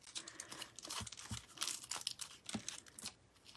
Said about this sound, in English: just curl that paper